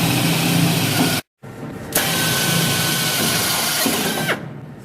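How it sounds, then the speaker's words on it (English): A step drill bit grinds through spot welds on the steel floor pan of a 1967 El Camino, a loud, continuous power-drill whine with a brief cutoff near the start before it resumes. "I'm just using a step bit to drill through the rest of the spot welds"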